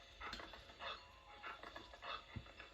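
A dog pants and whimpers in Zelda: Twilight Princess, a soft run of quick breathy huffs with faint whines coming in short bursts, close and fairly quiet, with no talk over it.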